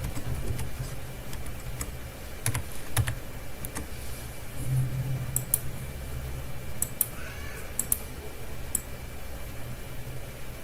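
Scattered keystrokes clatter on a computer keyboard, a few clustered taps and isolated clicks over a steady low background hum, fairly close and moderately quiet.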